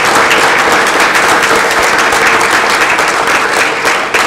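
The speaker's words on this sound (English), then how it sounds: "let's give them a great round of applause for making a difference in the lives of young people" Crowd at a governor's bill-signing event on drug abuse legislation breaking into a loud, sustained round of applause, dense and steady from start to finish with no talk.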